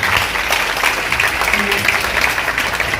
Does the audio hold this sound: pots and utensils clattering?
no